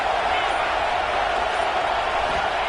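A packed LSU football stadium crowd roars on third down, a steady, loud, washed-out cheer that holds level the whole time without peaks.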